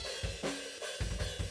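Drums played in a small room, recorded and EQ'd to cut muddiness, a short run of punchy kick and snare hits with ringing cymbal wash, close and roomy.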